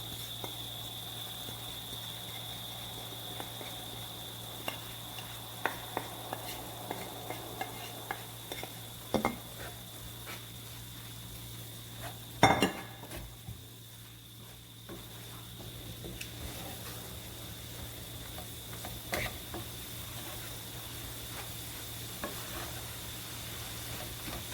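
Seasoned ground beef being stirred in a pan for lasagna, a soft steady sizzle with scraping spoon strokes and occasional knocks against the pan, close and continuous with no talking.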